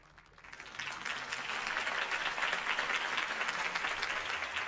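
Crowd applause after a Harvey Dent campaign speech in a video game, swelling from quiet to a full, dense wash of clapping that holds steady to the end.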